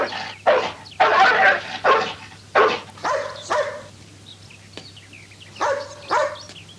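A dog barks repeatedly and fairly close, in short bursts separated by pauses, with a few softer yips and a faint steady hum underneath.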